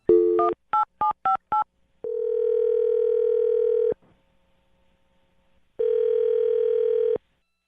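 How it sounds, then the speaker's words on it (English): A quick run of five dialing tones, then a long steady dial-like tone, a pause of near silence, and another steady tone, close and clear. "I'll dial her phone number right now."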